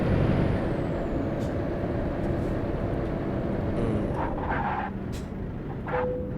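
Air brakes on a Volvo truck in the Euro Truck Simulator 2 game: a steady engine and road rumble with short hissing air releases near the end, continuous and moderately loud, without talk.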